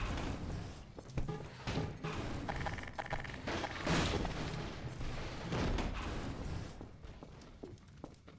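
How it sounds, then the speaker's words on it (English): Explosions and gunfire in Half-Life 2 co-op in Ravenholme: dense, heavy booms and thuds run almost without a break, loud and close, then thin out toward the end. "Exploding over there."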